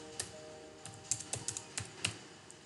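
Keys tapped on a computer keyboard while a mobile number is entered on a vaccination registration website, a run of about ten light, close clicks in an uneven rhythm over a faint steady hum, with no talking.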